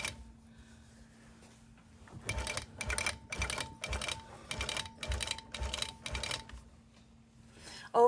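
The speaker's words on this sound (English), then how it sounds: "Over the seam, see how we backstitch?" A longarm quilting machine with a hopper foot stitches across a quilt top and batting, backstitching over a seam: a steady run of rapid mechanical bursts with short pauses between them, close and fairly loud over a low electrical hum.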